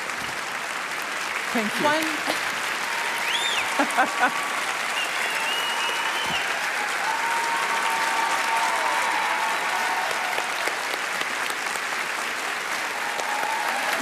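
An audience gives sustained applause for an author, a broad, even wash of clapping hands that lasts the whole stretch. Brief cheers and a short spoken thanks come through above it.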